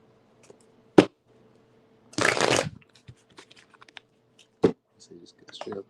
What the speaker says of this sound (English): All right, let's go quick shuffle.